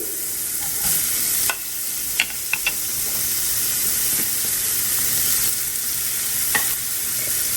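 Carrots and onion saute in oil in a pan, giving a steady close sizzle and hiss with occasional scraping stirs and small clinks of a utensil.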